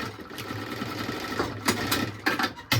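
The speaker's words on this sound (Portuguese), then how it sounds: "E faz uma costurinha pra prender essa alça." A sewing machine stitches a short seam to hold a strap on a toiletry bag, a steady close mechanical whir running throughout with a few brief louder bursts near the end.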